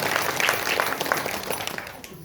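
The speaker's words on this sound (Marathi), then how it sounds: "महाराजासाठी एकदा टाळी वाजवा आणि एकदा सौंदवाल्यासाठी वाजवा" Audience clapping during a kirtan at a Shiva temple compound, a dense, steady patter of many hands ringing out together for the full stretch, with no voices over it.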